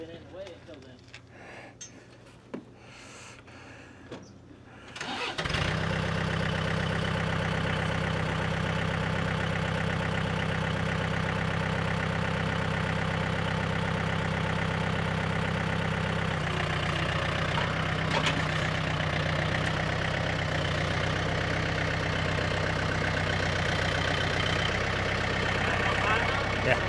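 A tractor engine starts and settles into a steady, loud, low idle that drones on evenly for over twenty seconds, with faint handling noises before it fires up.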